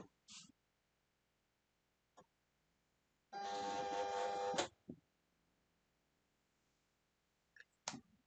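A cutting mat feeding into a Silhouette Cameo cutting machine gives a single loud mechanical whirring burst of about a second, framed by a few isolated clicks in an otherwise quiet room.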